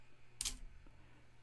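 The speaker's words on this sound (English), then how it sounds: "and now the shutter's closed." A film camera's shutter closes with a single quick, soft mechanical click up close in a quiet room, followed by a faint second tick.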